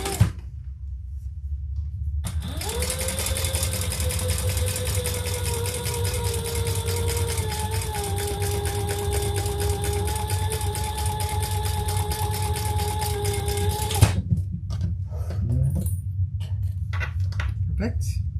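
A sewing machine top stitches a side panel of a crossbody bag, running as one continuous whirring pass of about twelve seconds with a steady tone, followed by quieter handling noise.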